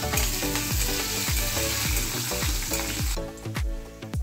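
Finely chopped ginger drops into hot oil already crackling with five-spice tempering, a loud, steady sizzle with popping and spatter right up close, with no talking.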